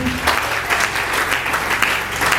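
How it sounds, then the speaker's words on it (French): A church congregation applauding for the Lord, steady, dense clapping from a crowd that fills the room, fairly loud and continuous with no talk. "Est-ce qu'on peut acclamer pour le Seigneur?"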